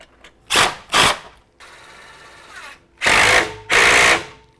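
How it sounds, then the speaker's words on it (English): A power driver with a torch tip tightens set screws on a clamp for a satellite dish mount on a metal roof, giving four loud whirring bursts in two pairs with a quieter buzzing stretch between them. "So now we can go ahead and grab our torch tip and tighten her down."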